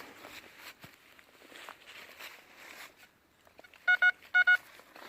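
A metal detector sounds two pairs of short, clean electronic beeps near the end, following quiet rustling and footsteps as someone sweeps a field.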